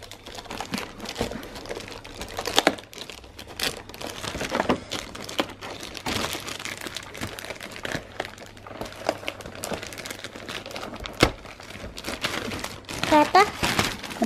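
Plastic bag crinkles and rustles steadily as newly arrived school supplies are unpacked, close and fairly quiet, with people talking intermittently over the handling noise.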